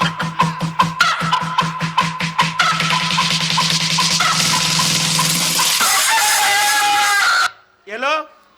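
During a Bengali Gajan folk performance, a performer vocally imitates a rooster, with a run of loud, rhythmic clucking bursts that build into a long, strained crowing call, followed by a brief pause and a short rising cry.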